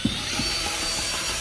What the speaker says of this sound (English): The drill and the mixing paddle.